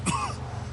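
A man in a video game cutscene gives one short, harsh cough or throat-clearing in pain. It is a single close burst that fades quickly over a low background hum.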